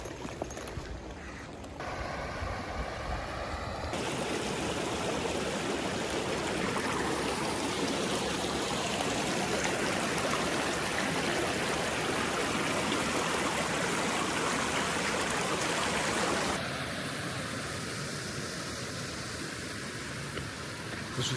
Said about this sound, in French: Petite rivière des familles.